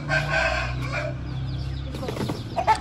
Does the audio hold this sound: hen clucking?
yes